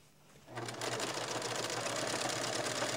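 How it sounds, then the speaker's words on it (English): A sewing machine starts up and runs steadily with a fast, even mechanical chatter while stitching binding along a quilt edge, close and fairly quiet. "Place it under our foot at the edge again and start sewing"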